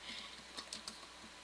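A computer keyboard is typed on in a short run of light, quick keystrokes, close and fairly faint, with a slightly louder tap at the end.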